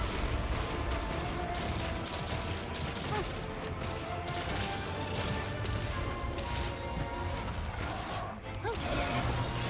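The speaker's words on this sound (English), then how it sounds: "just constantly keep peppering him with that piercing ammo" Rapid piercing-ammo gunfire in a Monster Hunter-style fight against Magnamalo, a dense, continuous barrage of shots and impacts mixed with game effects, loud and steady throughout with no clear breaks.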